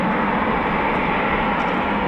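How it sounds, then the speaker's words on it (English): RAF Eurofighter Typhoon FGR4 jets taxiing out at RAF Coningsby at night give a steady, loud broadband engine roar and whine, continuous with no voices. "Cobra 4-1, Cobra 4-2 taxiing out right now."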